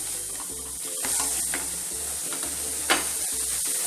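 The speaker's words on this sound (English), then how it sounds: "And now is the time to add the cooked peas." Cooked peas are stirred into a masala gravy sizzling steadily in a pan, with a continuous close frying hiss and the rhythmic scrape of a spoon against the pan, with no talking.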